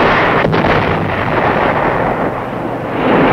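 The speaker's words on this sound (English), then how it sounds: "artillery, and the B-52s start their aerial bombardment." Artillery fire and B-52 aerial bombardment at the Battle of Khe Sanh, heard as a continuous loud, dense roar of rumbling blasts with no clear gaps, like distant explosions blending together.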